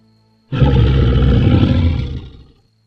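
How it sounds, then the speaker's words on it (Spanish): A deep, guttural roar erupts after a short silence, loud and sustained for about two seconds before trailing off with a reverberant tail. "lanzó aquel gutural grito que resonó por todo el bosque"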